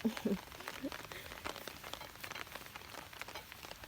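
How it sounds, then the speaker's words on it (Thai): Steady rain falls in a continuous soft patter, with a few brief faint voices in the background. "ฝนตกนี่กา"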